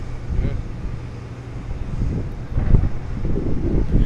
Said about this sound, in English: It's really it is very windy up here tonight.